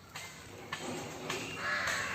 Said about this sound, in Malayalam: കാക്ക രണ്ടും കൂടെ കിടന്നു എന്നെ പരിപാടി നോക്കി